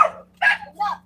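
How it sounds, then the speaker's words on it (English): Dogs give three quick, sharp barks close by, evenly spaced over about a second against a low steady hum. "They don't usually bark like this all the time."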